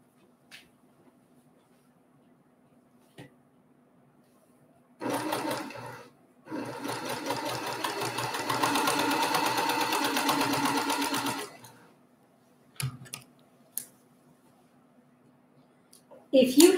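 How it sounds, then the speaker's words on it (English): A sewing machine stitches two quilt block pieces together with a quarter-inch seam, running in a short burst and then a longer steady run of about five seconds, close and loud, with quiet pauses and small handling knocks around it. "I'm going to take these two together over to the machine. And again, I'm going to sew them with a quarter of an inch"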